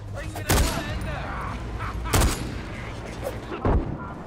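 Gunfire in the video game Far Cry 4: three heavy, booming shots spaced about a second and a half apart, loud against a steady background of game ambience.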